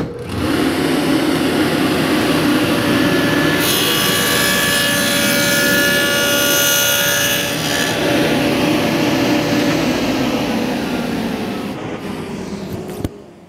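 Freud dado blade on a saw cutting a quarter-inch-deep dado joint in wood: a loud sustained roar of the spinning blade, rising as the blade bites into the stock, then winding down at the end.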